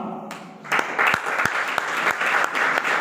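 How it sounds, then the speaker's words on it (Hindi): Audience applause greeting a student called up at a college event in Rewa, steady clapping from many hands that starts softly and swells into a full, sustained round, without speech. "ताली बजा करके स्वागत करें।"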